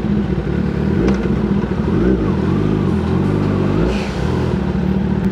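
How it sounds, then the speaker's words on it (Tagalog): Yamaha MT-09 SP motorcycle fitted with an SC Project exhaust revving, a loud, close, raspy engine note that rises and falls in several throttle blips with some mechanical clatter. "Naka-SC project nga pala to, kaya napakaingay."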